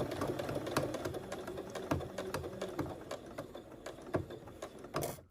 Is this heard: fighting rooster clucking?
no